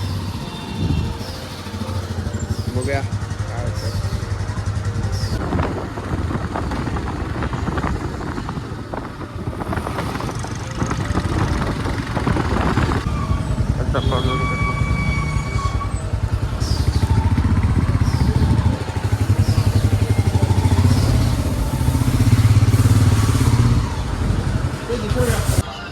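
A Royal Enfield Himalayan 450 motorcycle heard at a showroom before a test drive: a steady low engine drone running throughout, rising in the second half, with people talking over it.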